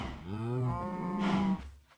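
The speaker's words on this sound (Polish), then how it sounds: "Chodźcie, głupie krowy" Cows moo in the Minecraft video game, with one long, loud, drawn-out moo that rises and then falls off, heard up close with no talk over it.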